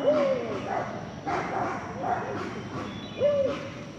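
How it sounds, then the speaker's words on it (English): Small dogs yap and bark repeatedly at a distance as they chase geese by a pond, short high-pitched barks coming in bursts over outdoor background noise. "The dogs are going after the geese."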